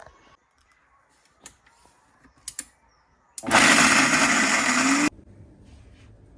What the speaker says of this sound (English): let's go ahead and blend this first separate, and then we're going to blend the rest of the blanched ones